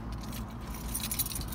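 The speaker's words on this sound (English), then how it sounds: "You get your regular set of keys." Keys for a 2012 Kia Forte jangle and clink steadily for the whole moment, close and fairly loud, with no talking.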